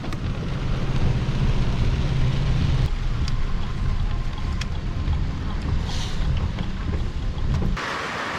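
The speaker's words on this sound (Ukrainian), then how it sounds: "як потужно дощ пішов. Прям заливає." Heavy summer rain pours down hard outdoors in Brazil, a loud, steady, broadband roar with buffeting wind noise on the microphone, a few sharper impacts, and a sudden drop in intensity near the end.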